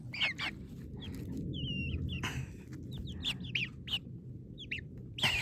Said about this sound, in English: Like all the other chickens turned gold before Batman